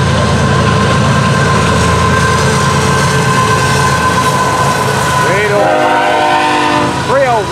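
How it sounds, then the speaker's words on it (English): A freight train carrying piggyback trailers at its front rumbles past close by with steady clattering wheels, and its horn sounds in a couple of long blasts near the end, with a voice speaking in between. "Piggybacks on the front end of this train, hot stuff."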